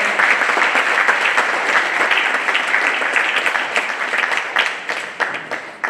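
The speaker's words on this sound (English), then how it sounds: "Let's please have one more round of applause for all our musicians today." Sustained applause from an audience for the musicians at an arangetram dance recital, dense and steady throughout, with a few sharper individual claps standing out near the end.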